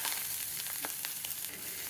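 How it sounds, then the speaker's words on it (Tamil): Chopped onions and curry leaves fry in hot oil, a continuous close sizzle with faint popping crackles and light stirring, fairly quiet and without speech. "வெங்காயம் நல்லா வதங்கட்டும்."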